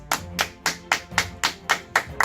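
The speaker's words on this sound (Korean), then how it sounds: "박수." Slow, even hand claps, eight sharp claps about a third of a second apart, close and clear with nothing else around them.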